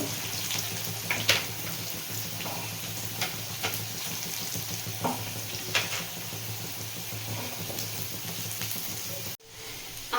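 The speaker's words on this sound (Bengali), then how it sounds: "ভালো করে ভেজে নেব লম্বা করে আলুটা ততক্ষণে ভাজা হতে থাক" Long-cut potato pieces fry in hot oil for a pointed gourd fritter curry, giving a steady, dense sizzle with occasional brighter pops and crackles. The frying runs throughout and stops abruptly near the end.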